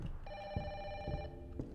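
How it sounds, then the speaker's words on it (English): A telephone rings in the horror game Don't be Afraid, a single electronic bell burst of about a second at moderate level, with faint low rumbling beneath it. "I hear a phone. I cannot find the phone."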